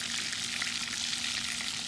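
Duck breasts fry in bacon grease with a steady, close sizzle and crackle that runs on without a break, and no voices.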